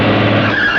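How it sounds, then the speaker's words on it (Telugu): Car arriving nearby, a brief loud rush of engine and tyre noise with a high squeal rising toward the end. "అదిగో ఏదో కారు వచ్చింది"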